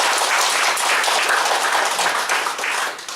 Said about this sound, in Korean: 우리 윤상현 의원님께도 우리가 좀 안 계시지만 이 자리에서 감사의 박수를 좀 드렸으면